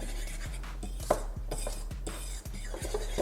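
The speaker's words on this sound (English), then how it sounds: "we're going to mix this up with a fork" A fork scrapes and clinks rhythmically around a bowl, stirring together flour, sugar and salt, with regular close tapping strokes and no talking.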